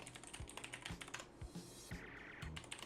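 Rapid, uneven keystrokes on a computer keyboard as an email address and password are entered, with clicks close and fairly quiet against a soft background and no talking.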